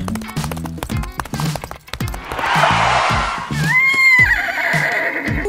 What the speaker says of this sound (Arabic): أنت بحاجة إلى حصان.